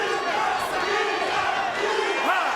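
A sold-out crowd at the theater at Madison Square Garden during a GLORY kickboxing event roars and yells continuously, loud and close, with rising shouts and cheers near the end.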